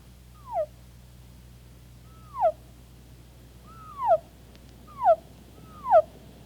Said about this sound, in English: Would you like to hear him transformed into a seagull?